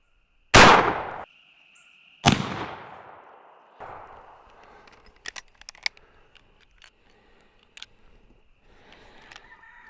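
Two sharp, loud rifle shots from a 38-55 WCF firing a 318-grain bullet at an outdoor range, each a sudden crack with a short ringing tail, followed by a fainter third report and scattered light clicks and handling noises.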